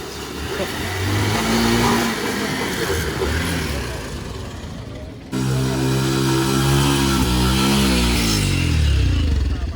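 Cars driving onto a ferry at Rewas jetty, engines rumbling and revving loudly close by with a steady vehicle drone and a break midway, while people talk faintly.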